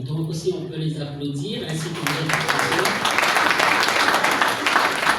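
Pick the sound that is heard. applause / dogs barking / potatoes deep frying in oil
applause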